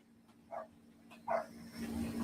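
A dog barks twice, short separate yips a little apart, fairly faint and at some distance over a low steady background hum.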